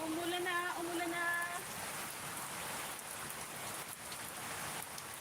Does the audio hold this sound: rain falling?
yes